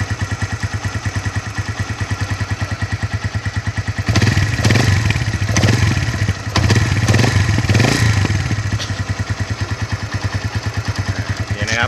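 A Honda Phantom 200 motorcycle engine idles with a steady, rapid thumping beat, close and loud, briefly rising in volume as it is revved through the middle before settling back to idle.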